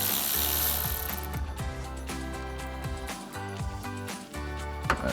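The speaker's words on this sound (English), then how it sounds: "Take a 10mm socket to remove the nut." A ratchet wrench with a 10mm socket turns the nut on a truck battery's positive terminal, giving close, rhythmic clicking strokes repeated steadily over several seconds.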